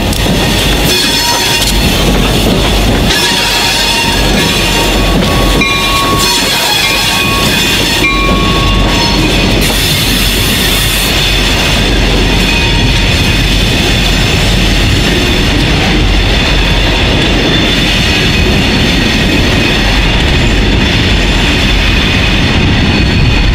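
An Ann Arbor Railroad (WATCO) freight train rolls through Pittsfield Junction, loud and close, with a constant heavy rumble, rhythmic wheel clatter and brief squeals of metal.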